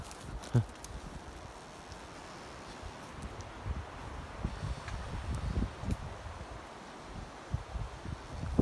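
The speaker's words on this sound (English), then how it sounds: "Really windy today." Steady outdoor wind buffets the microphone in low rumbling gusts, with faint rustling throughout and occasional sharper bumps.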